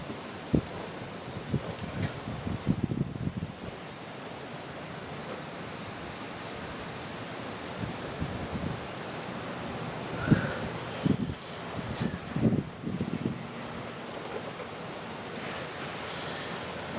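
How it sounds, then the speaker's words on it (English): Gusty wind blows outdoors during a Dana 30 axle sleeve install, a continuous broad rush with rustling bursts and swells, no voices. "Damn wind's kicking today."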